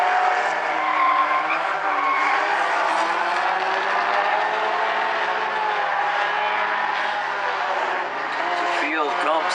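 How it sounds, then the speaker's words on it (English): Race cars in a heat race at South Sound Speedway roar steadily and loudly throughout, with tire noise and engines sweeping past, while a commentator talks over the action. "They come across the line to Greg Schlund, putting about a car length in between himself and Charneski"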